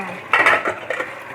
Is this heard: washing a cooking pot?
yes